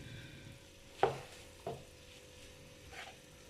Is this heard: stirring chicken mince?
yes